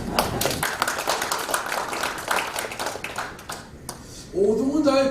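Lecture audience at a March 1st Movement centennial talk claps in a burst of brisk applause that fades out, followed by a voice speaking.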